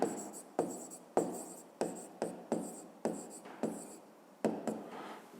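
Handwriting on paper at a school desk, close and clear, in a regular series of about nine scratchy pen strokes, each starting sharply and then fading.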